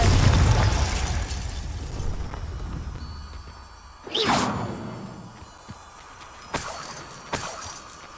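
Confringo spell in the video game Hogwarts Legacy: a sharp whooshing fiery blast bursting loudly midway, followed by smaller crackling impacts and fading rumble, with no voices.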